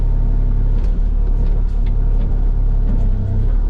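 A rented excavator engine runs steadily at quarter throttle while digging through easy ground with tree roots, a loud, close, continuous low rumble with no talk.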